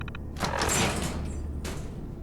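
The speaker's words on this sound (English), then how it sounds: "And with the door open..." A sliding door opens in a bunker video game with a long mechanical whoosh and hiss lasting over a second, followed by a second shorter burst, over a steady low background hum.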